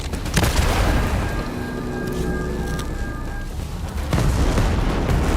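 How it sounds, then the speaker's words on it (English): Heavy shots boom in Ghost Recon Breakpoint as rounds punch through a wall, a couple of loud blasts with a rumbling tail and a steady tone ringing between them. "Oh, you just shoot through the fucking wall, Raj."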